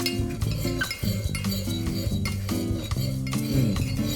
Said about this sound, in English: And then we mix the whole thing together.